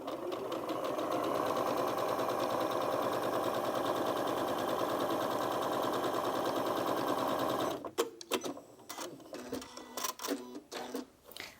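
A Janome Memory Craft 9480QCP sewing machine stitches rows steadily for about eight seconds, a loud continuous mechanical whir, then stops into a few scattered clicks and handling knocks.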